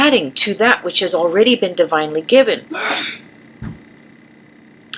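A person talks steadily, then gives a single sharp sneeze near the end before a brief quiet stretch.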